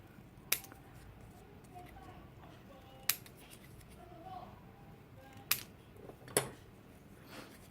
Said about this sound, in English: then I just snip off a little bit